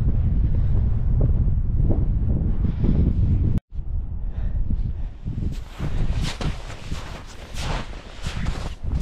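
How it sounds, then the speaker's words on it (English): Strong gusting wind buffets the microphone in a heavy roar on Mount Ollivier, Mt Cook National Park, New Zealand, briefly cutting out before returning with rushing, water-like noise. "Windy now."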